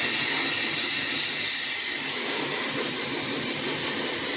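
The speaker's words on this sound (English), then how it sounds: "We'll go with the lowest setting right now. And you just dry your hair." A Slopehill professional hair dryer with diffuser runs on its lowest setting, a steady, loud airy hiss with a broad whooshing roar held close and unbroken throughout.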